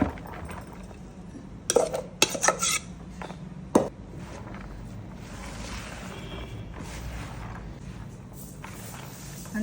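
Hot rice being mixed with mango pickle in a bowl, a cluster of sharp clinks and scrapes of utensil on dish early on, then quieter soft rubbing and mixing sounds, without speech.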